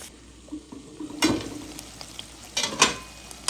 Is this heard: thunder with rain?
no